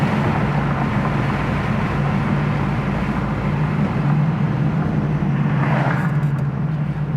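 A 1970 Camaro Z28 engine rumbles loud and steady at close range through a downshift, a dense low drone that holds throughout.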